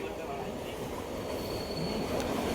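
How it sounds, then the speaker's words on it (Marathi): The Bhavnagar Terminus–Kochuveli Express, train 19260, pulls out of Vasai Road station at night, a loud, close rumble of rolling wheels on rails with a faint squeal, with a voice talking over it. "one nine to six zero train आपली सुटलेली आहे वसई रोड स्टेशनवरून"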